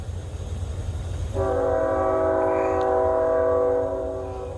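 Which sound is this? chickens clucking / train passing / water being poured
train passing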